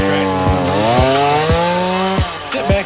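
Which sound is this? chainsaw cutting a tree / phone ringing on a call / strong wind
chainsaw cutting a tree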